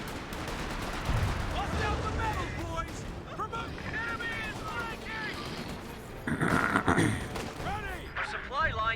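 Bursts of rifle and machine-gun fire crackle through a Company of Heroes 2 battle as a Pak howitzer position takes fire, with repeated rapid volleys close and far and game voices chattering underneath.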